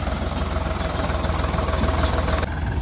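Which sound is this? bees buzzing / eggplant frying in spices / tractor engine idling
tractor engine idling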